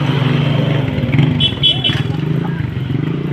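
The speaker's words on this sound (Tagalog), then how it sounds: "Ayan yung motor oh." Motorcycle passing on the Marilaque mountain road, a steady engine roar close by throughout, with excited voices talking over it.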